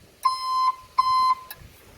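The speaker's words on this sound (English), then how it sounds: "Last but not least, the backup alarm works." An aftermarket backup alarm on a Young Buggy mining machine gives two loud, shrill electronic beeps, each a sustained tone about half a second long with a sharp click at the start, then a faint click after.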